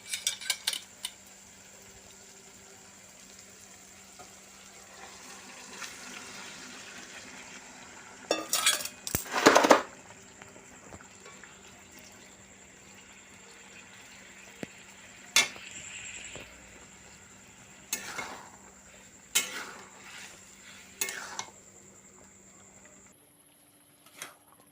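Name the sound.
Maggi noodles added to the pan and stirred after frying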